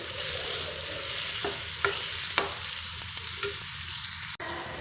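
Chopped tomatoes sizzle steadily in a hot pan, with occasional clicks and scrapes of stirring, close and continuous with no talking.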